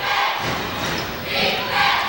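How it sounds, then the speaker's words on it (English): A girls' high school basketball crowd at Union Hill yells defense, a steady loud roar of massed voices that swells and dips slightly throughout, with no distinct pauses. "Union Hill crowd yelling defense"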